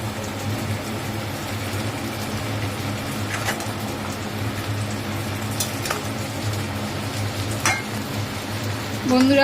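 Pumpkin and shrimp curry in a pan with sugar being mixed in, a steady simmering sizzle over a constant low hum, with a few faint scraping strokes and no talk.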